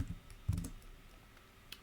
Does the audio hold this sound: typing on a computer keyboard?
yes